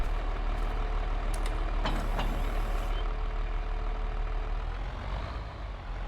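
A tractor engine runs steadily in a farming video game, a constant loud low drone with some faint beeping and clanks over it, easing slightly toward the end.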